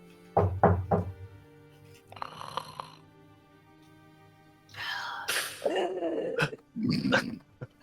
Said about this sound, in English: I go and knock softly on the door.